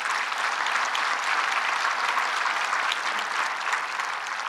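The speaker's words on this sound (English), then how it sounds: "let's give him a round of applause" An audience at a groundbreaking ceremony for the TWA Flight Center Hotel claps in steady sustained applause, a dense even wash of many hands that holds at full strength throughout with no voices above it.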